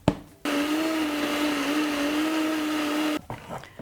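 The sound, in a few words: blender mixing red cabbage spread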